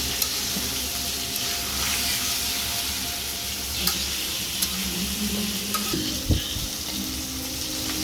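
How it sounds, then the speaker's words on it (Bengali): Washed vegetables hiss and sizzle as they are stirred and sautéed in a spiced pan, a continuous frying noise with occasional soft clicks of a spoon against metal. "এখন আমি তরকারি আগে থেকে ধুয়ে নেওয়া তরকারিগুলোকে দিয়ে দিব, দিয়ে ভালো করে নাড়াচাড়া দিয়ে কষিয়ে নিব তরকারিটাকেও।"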